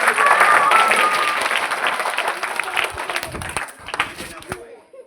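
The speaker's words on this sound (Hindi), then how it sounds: "बड़े जोरदार ताली दोनों लड़के।" Audience applause for two boys at a lively Hindi-speaking gathering, a dense burst of clapping that starts loud and gradually thins out over several seconds, with scattered voices and a whistle-like tone mixed in early on.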